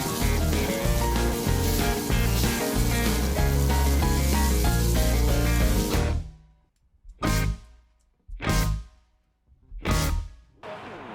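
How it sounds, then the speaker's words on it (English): A tomahawk steak sears over flame on a grill grate at 600 degrees Fahrenheit, first as a loud, dense, steady sizzle, then as several separate bursts of hissing sizzle with brief quiet gaps between them. "Let's kiss it with some flame and get this thing seared."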